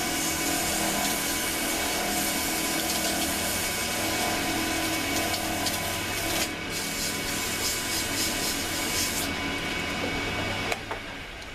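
A turned wooden ferro rod striker handle is sanded on a lathe with fine-grit sandpaper, making a continuous close rubbing hiss with the motor's steady hum beneath and brief changes in pressure near the end, without talk.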